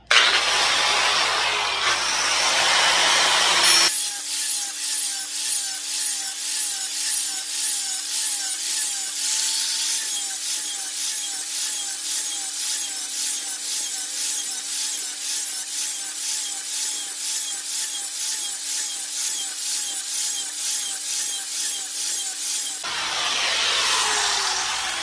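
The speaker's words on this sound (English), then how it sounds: "When you sharpen these, it's going to start to build a burr on the back side. So what I do is I take the grinder" Angle grinder sharpening Dixie Chopper mower blades, a loud steady high whine with a rhythmic pulsing grind running for nearly twenty seconds, bracketed by louder bursts at start and finish.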